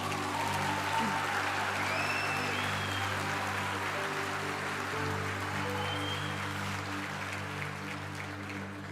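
A church congregation applauds in a dense, even patter that stays moderately distant over a sustained keyboard pad and low hum, slowly easing toward the end.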